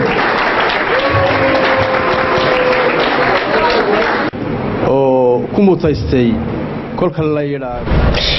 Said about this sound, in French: Applaudissez très fort votre camarade